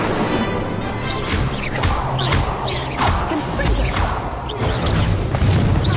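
Incendio fire spells cast in Hogwarts Legacy roar out as repeated whooshing bursts over a steady, dense background of game noise, several blasts rising and fading in quick succession.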